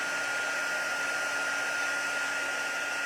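A heat tool blows steadily while melting soft pastels over Versamark, a constant close whooshing drone with a fixed whine and no breaks.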